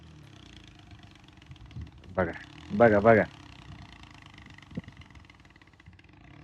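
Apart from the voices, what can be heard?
tractor engine running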